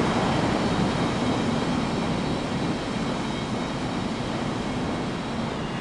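An airliner taking off in an air traffic control video game, a steady loud roar of jet engines that holds constant and eases slightly over several seconds, with no talking.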